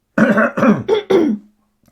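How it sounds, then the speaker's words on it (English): Four quick, throaty coughs in a row, loud and close, like someone clearing their throat, followed by silence. "we cough until something is dislodged"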